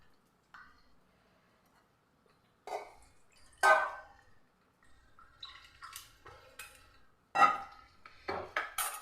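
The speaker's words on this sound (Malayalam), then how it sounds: "ഗോതമ്പ് പൊടി നമ്മുടെ മിക്സിയുടെ ജാറിലേക്ക് ചേർത്ത് കൊടുക്കുക അതിനോടൊപ്പം തന്നെ നമ്മൾ കുതിർക്കാനായിട്ട് വെച്ചിട്ടുള്ള നമ്മുടെ ഈ ഒരു റവ ഉണ്ടല്ലോ അതും കൂടെ ചേർത്ത് കൊടുക്കുക" Wheat flour and soaked semolina spooned into a mixer grinder jar, heard as sparse, close, light clinks and taps of a spoon against the jar between quiet pauses.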